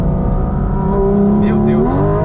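A Porsche 718 Cayman GT4 RS accelerates through a curve, its engine note climbing steadily and loud from inside the car while a person talks over it.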